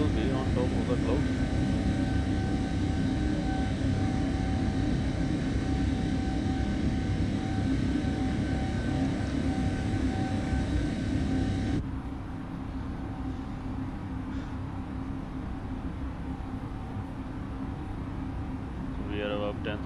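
Airplane engine drone climbing in Microsoft Flight Simulator 2024 on a flight from Ottawa to Halifax, a steady loud cabin hum that dips slightly after twelve seconds and carries on beneath a voice talking.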